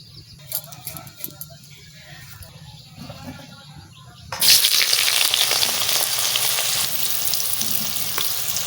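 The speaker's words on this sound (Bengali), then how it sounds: "আলু কেটে দিচ্ছি, তেল দিয়ে দিচ্ছি, সর্ষের তেল" Cut potatoes frying in mustard oil, starting as a faint quiet background and then bursting into a loud, steady sizzle about halfway through as the pieces hit the hot oil.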